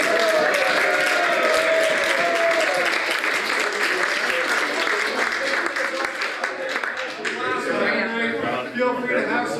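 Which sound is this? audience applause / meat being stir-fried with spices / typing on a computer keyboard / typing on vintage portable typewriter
audience applause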